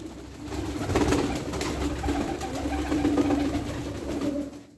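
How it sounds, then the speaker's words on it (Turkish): Çorum pigeons flutter and beat their wings in a steady, dense rush of flapping lasting several seconds, loud and close, with soft cooing mixed in. "Bakın kanat seslerine bakın kuşların."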